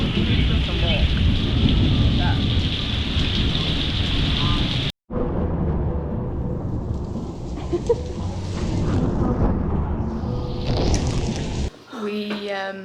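Heavy rain pours steadily during a thunderstorm at a water park, a dense hiss with low rumbling thunder, briefly cut off partway through, then continuing with voices talking faintly near the end.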